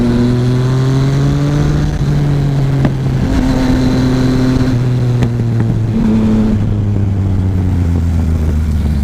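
A Suzuki SV650 or Yamaha FZ-09 motorcycle pulls hard out of a corner, its engine note steady and loud with pitch stepping through gear changes, close by and continuous with no talking.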